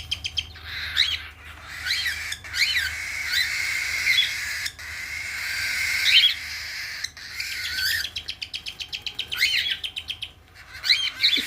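Pet birds chirp and tweet as the father bird feeds the young: a close, lively run of repeated bright calls with short pauses and a rapid trilling burst near the end.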